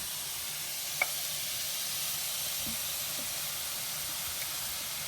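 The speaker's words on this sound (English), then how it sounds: "Pineapples going in." Pineapple goes into a pan of teriyaki chicken stir-fry, bringing a steady, even hiss of sizzling, with one faint tap at the start and little else over the constant frying sound.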